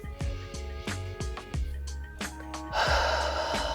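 Heavy, forceful breaths during a yoga core workout: about six sharp exhalations come in a steady rhythm, loud and close, followed by a longer rushing breath at the end, with no talking.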